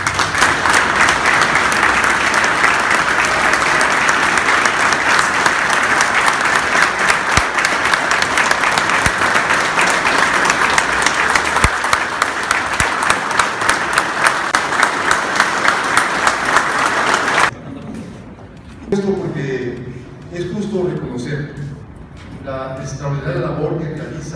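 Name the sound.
crowd applause for the fire brigade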